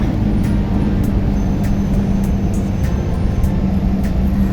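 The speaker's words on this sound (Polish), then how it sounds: "O, jaki tramwaj fajnie nam się spasował." A steady, loud rumble of a tram rolling past nearby in Budapest, with faint high-pitched squeals recurring throughout; no voices.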